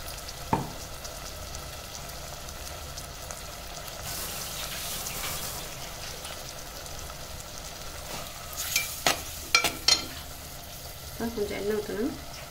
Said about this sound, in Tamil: நல்லா இந்த வெங்காயத்தோட சேர்த்து நல்லா வதக்கிடணும்.